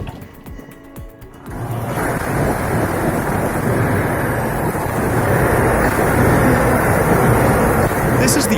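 A Lister SR3 three-cylinder 3.5-litre diesel engine rated at 12 horsepower runs steadily and loudly in a close, continuous, rough drone, after a short quieter lead-in of rhythmic clatter.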